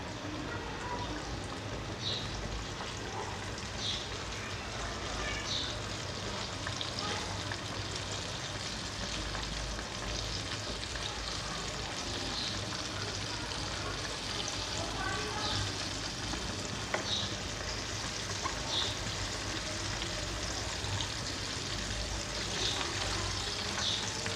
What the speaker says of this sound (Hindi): अब हम इसको फ्राई करते हैं। ऑयल हमारा गरम है। ये हमने फ्राई होने के लिए इसमें डाल दिया।